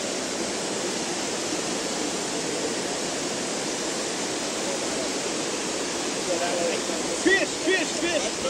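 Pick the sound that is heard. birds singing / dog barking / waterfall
waterfall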